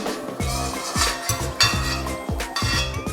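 Fried cashew nuts are lifted out of hot ghee in a pan, with a close, steady run of rhythmic metallic clinks and scrapes of a spoon against the pan over a continuous sizzle.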